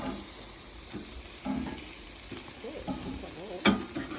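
Chicken fries in leftover oil on a tray, a steady close sizzle with stirring and scraping, plus a single sharp clank near the end.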